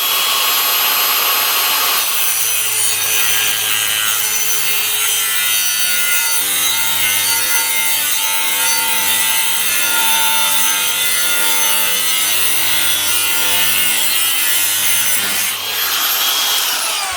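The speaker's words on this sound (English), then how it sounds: "So we'll make another cut down here." Steady hand sawing across a special tool prototype for a 450cc primary sheave, a continuous rasping back-and-forth stroke that runs close and loud for about fifteen seconds with no talk.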